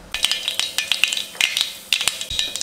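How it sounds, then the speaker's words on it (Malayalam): Mustard seeds crackle in hot ghee in a pot, giving irregular, sharp, close pops with brief gaps between bursts. "നെയ് ചൂടായതിന് ശേഷം അതിലേക്കൊരു 1/2 ടീസ്പൂൺ കടുക് ചേർക്കുകയാണ്"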